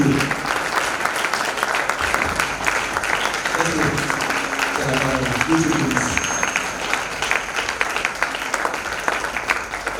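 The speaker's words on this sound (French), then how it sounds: "Alors, on continue d'acclamer jusqu'à ce que je vienne le micro." A church congregation at a Sunday service applauds in a continuous, dense wash of clapping that lasts throughout, loud and fairly close, with voices mixed in.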